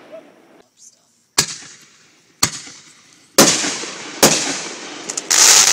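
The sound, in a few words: fireworks exploding during a home display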